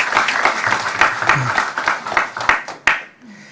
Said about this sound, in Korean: 우리 경례 박수 다시 한번 하겠습니다